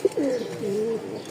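A pair of Rajshahi golla pigeons coo close by in a short, low, rolling call with a brief sharp note at the start and no talk over it.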